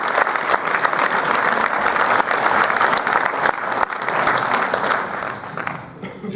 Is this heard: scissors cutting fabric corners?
no